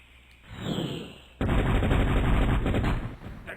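Cartoon explosion from explosives in a video game, a sharp burst followed by a loud, sustained rumbling roar that fades slightly at the end.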